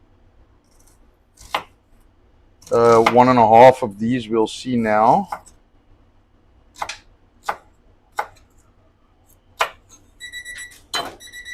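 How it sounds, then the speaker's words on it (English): A knife slices onion on a cutting board, making a few sharp, scattered cutting knocks, with someone talking early on. "get some onion sliced"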